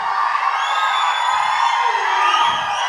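Dense crowd of fans cheering, whooping and shouting at a Telugu film pre-release event, a loud continuous roar with no breaks in it.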